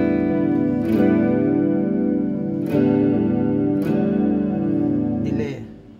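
Sustained distorted electric guitar chords ringing through a Boss ME-80 multi-effects pedal, no modulation, struck again every second or two and fading out at the end.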